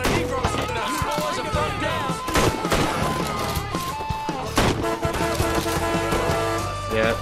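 Enemy gunfire in the open-world crime game Mafia 3 rings out as sharp, scattered shots and bursts, some close and some further off, under players talking over it.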